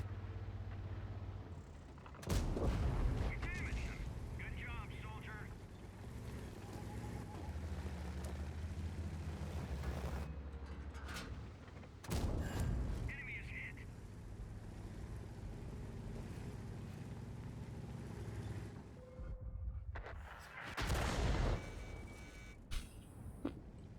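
Heavy artillery-style blasts in a tank video game, several deep booming impacts spread across the stretch over a constant rumbling engine drone, fairly loud and with no talk.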